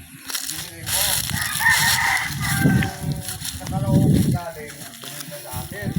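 Chickens cluck and call near a house in a rural yard, their bursts rising and falling while a person speaks over them.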